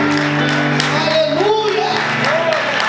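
Church congregation applauding during a sermon, a continuous wash of clapping with scattered shouts and a voice rising above it, close and loud throughout.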